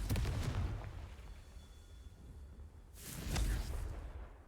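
A Confringo fire-blast spell in Hogwarts Legacy: a booming explosive burst at the start that rumbles and fades, followed by a second heavy blast near the end.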